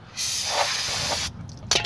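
A short, steady burst of aerosol spray hisses for about a second, followed by a couple of quick brief puffs, during rear brake work on a convertible PT Cruiser.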